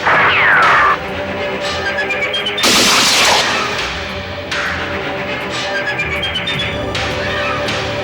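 Sharp bursts of gunfire crack out amid a chaotic, crashing din, with loud impacts and music-like tones running underneath.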